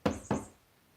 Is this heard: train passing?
no